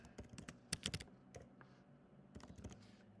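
Fast, uneven burst of computer keyboard typing, close and fairly loud, with clustered keystrokes, a short pause, then another flurry; no voices.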